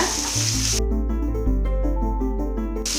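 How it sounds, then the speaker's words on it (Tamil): Onion, ginger and garlic sauté in oil in a pan for a Tamil-style meal maker gravy, giving a steady close sizzle with some stirring and clinking throughout. "இப்போ நம்ம வெங்காயம் சேர்த்துக்கலாம். இஞ்சி பூண்டு சேர்த்துக்கலாம். நல்லா வதக்கிங்க."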